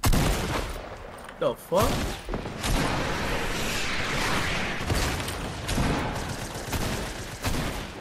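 Gunfire in the video game Fortnite crackles in rapid volleys and scattered shots, loud and continuous, with a person briefly exclaiming over it.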